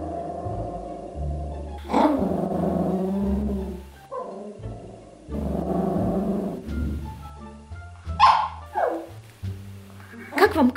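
A small dog guarding its toy growls in long, low stretches, then breaks into sharp, close barks toward the end.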